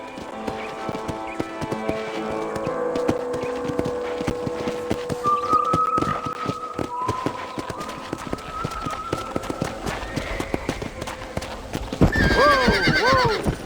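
Horses clip-clop over hard ground at a corral in the video game Red Dead Redemption, in a busy rhythm, with a loud whinny near the end and tonal game music underneath.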